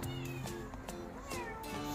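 A house cat meows in short repeated calls in a workshop during furniture restoration, close and fairly loud, with a person speaking briefly nearby.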